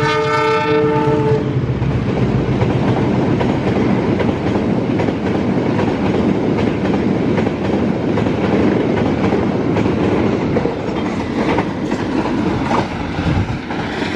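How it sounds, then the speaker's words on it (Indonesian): A passenger train, the Argo Dwipangga with a sleeper car at the rear, sounds its horn briefly at the start, then a long loud rumble and rattle of rail cars rolling steadily past nearby. "Kereta api Argo Dwi Pangga membawa kereta sleeper paling belakang ya."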